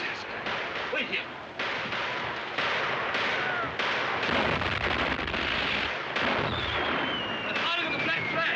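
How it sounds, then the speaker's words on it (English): Film battle scene with artillery and gunfire: dense, continuous booming blasts and rattling shots fill the whole stretch, loud and close, with layered rumbling and a few whistling streaks overhead. "They're firing on the black flag."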